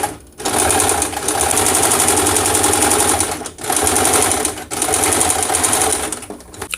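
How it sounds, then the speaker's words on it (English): A sewing machine stitching a flat felled seam at about a 5/8 inch seam allowance, running in loud, close, steady bursts with two brief pauses between runs. "I'm gonna do a stitch right here around 5/8 of a seam allowance"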